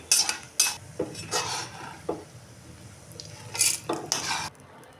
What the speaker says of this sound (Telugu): ఇవన్నీ ఒక మిక్సీ జార్లోకి తీసేసుకున్నాం